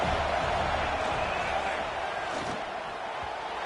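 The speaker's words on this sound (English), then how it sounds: "These fans are going absolutely nuts." Stadium crowd roaring in the NCAA 26 college football video game: a dense, steady wall of cheering and noise, loud and sustained, easing slightly toward the end.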